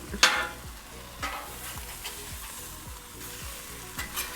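A pork chop sizzles on a flat griddle just after being flipped, a steady close frying hiss punctuated by a sharp scrape and regular soft spatula taps.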